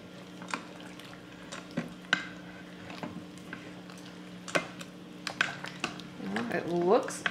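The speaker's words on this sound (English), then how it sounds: "Give this a really good stir. Get it all mixed in there." Chicken Romano ingredients being stirred in an Instant Pot insert, with a run of separate spoon clinks and scrapes against the metal and a soft wet mixing sound, plus a faint hum and some kitchen clatter near the end.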